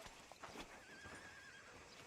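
A horse whinnies in a video game set around a sheriff's office, a single drawn-out neigh over soft hoof clops and ambient outdoor noise, with no one talking.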